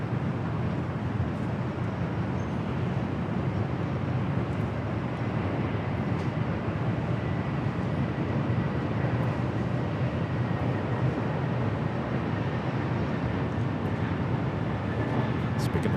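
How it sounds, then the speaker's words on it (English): A United Dreamliner airliner taxis toward runway 25 right at LAX, heard as a steady, broadband jet engine rumble from a distance that holds an even level throughout. "The United Dreamliner rolling down to 25 right."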